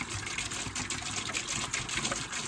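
Water splashing and trickling steadily into a container, a continuous liquid gush with no talking.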